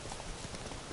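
Brief burst of galloping hooves from Roach, the horse in The Witcher, a fast, dense clatter heard close and steady over a full game soundscape.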